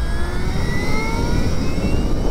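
Stark Varg electric supermoto motorcycle accelerating hard, a steady loud whine with rising electric-motor tones over constant road and wind noise, close and continuous with no talk.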